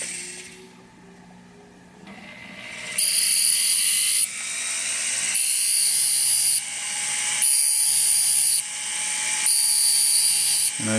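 A jewelry burr, being shaped into a burnisher for flush and gypsy stone setting, rotates slowly against a spinning sanding disc, giving a steady high-pitched grinding whine that comes and goes in repeated loud bursts with quieter gaps between.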